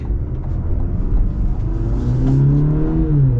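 A 2025 Cadillac CT4-V with a four-cylinder engine accelerates hard from inside the cabin, its steady rumble rising in pitch as it builds speed, loud and continuous.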